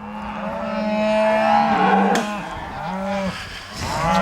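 Cattle grazing in a field with calves moo in several long, low calls that overlap, close and fairly loud, with no talking.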